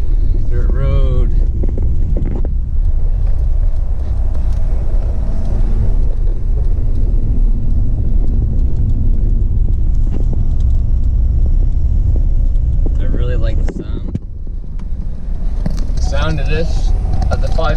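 A 2017 Ford F-550 with a 6.7 Powerstroke diesel rumbles steadily along a dirt road, a deep continuous engine drone with cab and wind noise, while someone talks over it at times.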